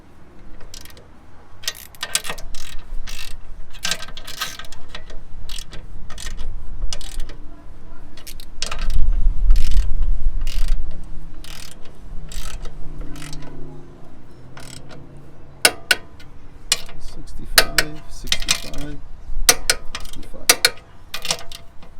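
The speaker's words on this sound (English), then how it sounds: "And you get your 19 and start torquing them down." A ratchet wrench torques 19 mm bolts on a Tork control arm brace of a Hyundai Veloster N, giving close rapid clicking bursts that start and stop repeatedly.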